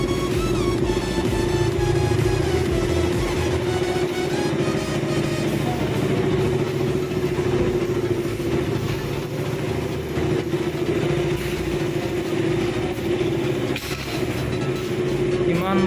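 A motorcycle in bad condition idles and rumbles steadily with a strong low hum and rattly harmonics, stretching out over a long stretch, with occasional voices in the background.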